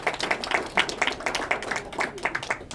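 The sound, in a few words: audience clapping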